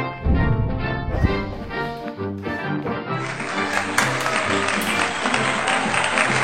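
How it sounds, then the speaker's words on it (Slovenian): Applause rises from an audience for theatre actors, a broadband spread of clapping that swells in the second half over tonal music playing beneath it. "Igralce vselej nagradimo z aplavzom."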